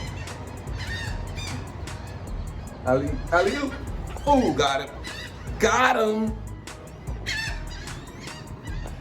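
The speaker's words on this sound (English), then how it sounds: "feeding seagulls 5th floor right now" Seagulls being fed at a beach in Corpus Christi, seen from a fifth-floor balcony, squawking and squealing in several bursts close by while someone talks over them.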